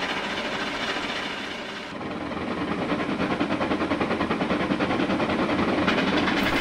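Two big steam engines haul a heavy train, a loud steady rumble overlaid with a quick rhythmic chugging and clatter of wheels on the rails.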